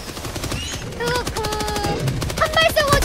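Weapon fire in Helldivers 2, rapid rattling bursts of shots that run almost continuously, mixed with tonal game effects and people talking over the action.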